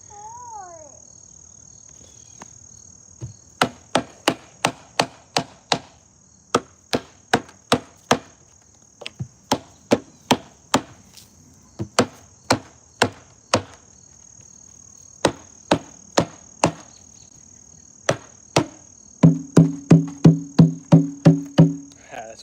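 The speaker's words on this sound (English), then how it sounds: "let's try to tighten this bad boy up and see where it's going" An atabaque drum being tightened and test-struck between adjustments: sharp, close hand hits in short bursts and runs, with a steady high whine underneath and a faster sequence of deeper, more resonant strokes near the end.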